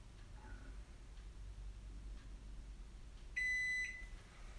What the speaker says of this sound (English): Hear that long beep?